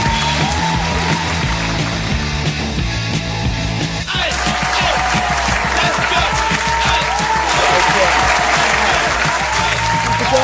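A large crowd applauds loudly and continuously at a football club gathering, with dense sustained clapping that swells after a brief dip.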